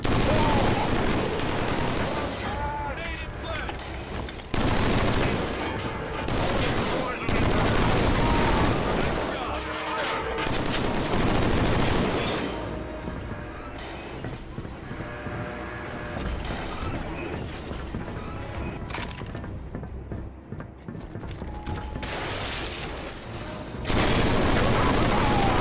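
Gunfire in the Killzone 3 video game, loud repeated bursts of automatic shots and blasts that come and go with battle noise, while a player talks over the action.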